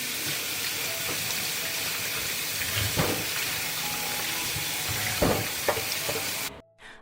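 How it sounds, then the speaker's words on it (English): Running water splashes and hisses steadily as a watermelon is washed under a tap, a close continuous rush with a few louder splashes, cutting off abruptly at the end. "The first thing I'm gonna do is wash the watermelon."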